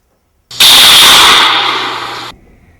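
An air rifle fires one unsuppressed shot into a wood pile, a loud, sharp crack followed by a broad hissing wash that fades over about two seconds before cutting off.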